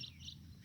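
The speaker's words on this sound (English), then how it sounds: "You can hear the birds, aren't you?" Birds chirp outdoors in a quiet natural setting, with two brief, faint high tweets over a soft low background hum.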